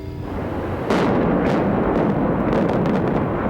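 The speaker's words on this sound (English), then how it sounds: "When the explosives were finally triggered, everything went off with a bang." Explosives bring down the IMA building in a 1997 implosion demolition: after a short stretch of rumbling ambience, a sudden loud blast breaks out and stays as a sustained, roaring boom with crackling bursts, heard from a distance outdoors.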